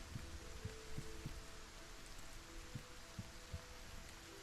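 Steady rain in the Solarpunk video game, a soft continuous wash with faint low thumps and a background hum, no voices.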